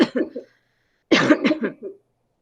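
Two short bursts of coughing, close by, separated by about half a second of silence.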